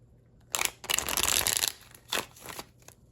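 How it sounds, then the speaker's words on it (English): Close, crisp riffle shuffles of a tarot deck: a quick burst, a longer run of fluttering cards, then two shorter shuffles. "Let's go ahead and get a couple more shuffles"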